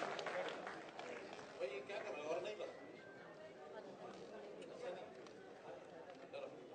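Crowd at a Sirsa public hearing applauds to welcome Chief Minister Manohar Lal, a steady distant wash of many hands clapping that continues throughout, with murmuring voices mixed in.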